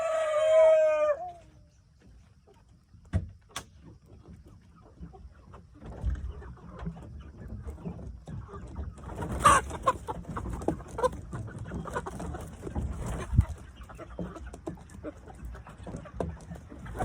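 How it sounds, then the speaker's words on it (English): A rooster crows briefly at the start, then quiet, followed by scattered clucking and rustling with occasional thumps through the rest, as chickens are let out on a small farm. "So I'm gonna let some chickens out."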